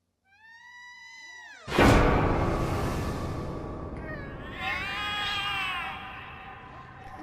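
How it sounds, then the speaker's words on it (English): Cats in The Cat Lady video game let out a long rising meow, then an abrupt loud noisy burst, followed by sustained, wavering caterwauling cries that swell and fade. "The cats are alarming."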